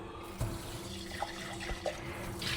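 New glass jars rinsed under a running kitchen tap, a steady close water rush with a few soft knocks and splashes as the glass is handled, no talk.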